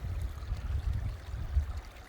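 Creek water running through an old growth forest in the southern Alberta foothills, with woody debris in the stream, gives a low, steady rushing murmur that continues without a break.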